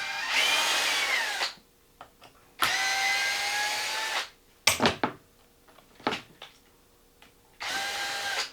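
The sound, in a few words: electric drill driver removing screws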